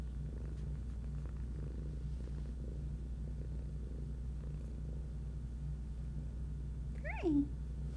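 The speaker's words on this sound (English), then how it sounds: "Do you hear her purring?" A cat named Creeper purring very faintly up close, a steady low rumble running throughout, with a short rising meow-like chirp near the end.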